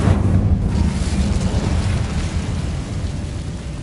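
Incendio fire spell cast in Hogwarts Legacy: a loud, dense roaring burst of flame that holds steady and eases off slightly over about four seconds, with no voices over it.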